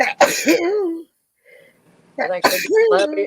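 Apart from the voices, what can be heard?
sneeze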